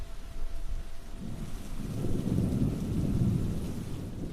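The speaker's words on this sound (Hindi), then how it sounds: "इस बार बारिश थोड़ी तेज थी" Heavy monsoon rain pours down with deep rolling thunder, a dense steady hiss under low rumbles that swell and fade across the stretch.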